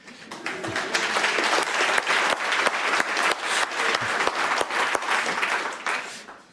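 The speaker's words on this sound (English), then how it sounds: "I deserve now a very huge applause" Sustained applause from a lecture audience at a talk on food fermentation microbiology, dense and steady with sharp individual claps standing out throughout, fairly close and filling the room.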